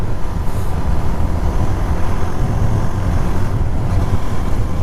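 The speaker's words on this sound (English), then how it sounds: "So I could kind of hear the exhaust over the engine on this." A KTM Duke 390 motorcycle engine rumbles continuously up close on the road, its low exhaust note steady under rushing wind noise, with no talking.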